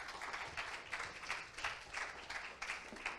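An audience at a Bitcoin conference stage applauds to welcome a speaker: soft, fairly distant clapping in a light, irregular patter that lasts a few seconds.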